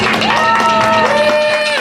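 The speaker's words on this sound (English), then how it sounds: "a round of applause for our our very brave new dancers" Audience applause and cheering for brave new dancers brought on stage at a Japanese festival dance workshop, dense and steady, with voices and a sustained musical tone running through it.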